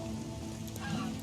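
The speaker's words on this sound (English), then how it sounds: "This is some kind of rain, huh?" Steady rain falls in the fantasy game The Witcher 2, a continuous close hiss of drops on surfaces that lasts throughout with no break.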